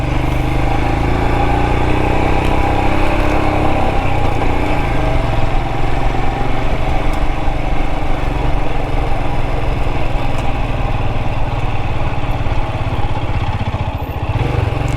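Royal Enfield Himalayan 411 single-cylinder engine droning steadily and loudly as the motorcycle climbs a trail, a continuous close rumble that holds for the whole stretch with slight dips near the end.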